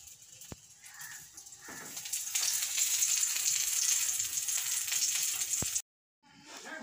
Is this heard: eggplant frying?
yes